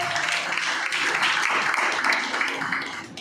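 A crowd at a stage event introducing the cast of the Chhattisgarhi film Jawani Zindabad claps loudly and steadily for about three seconds, with voices mixed into the noise.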